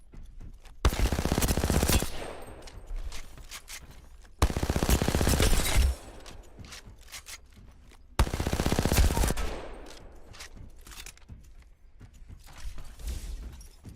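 Repeated automatic weapon bursts ring out in the Apex Legends firing range: three loud sustained volleys of rapid gunfire, each lasting about a second or more, separated by quieter gaps with faint mechanical clicks.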